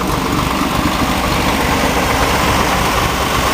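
A Chevrolet Monza with a 327 V8, four carburetors and a 304 turbo cam runs at idle, producing a loud, steady, rough engine rumble up close with no pauses.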